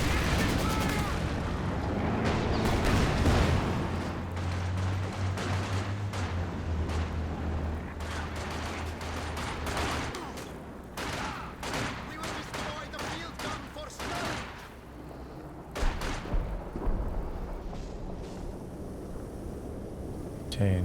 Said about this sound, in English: incendiary artillery coming in on the centre this time